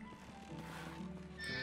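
A horse in the medieval village video game Medieval Dynasty gives a short wavering neigh, close and moderately loud, with no talking over it.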